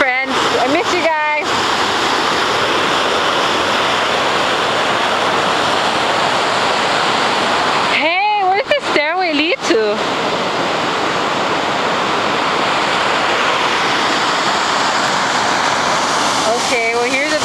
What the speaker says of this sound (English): Okay, well here's a waterfall.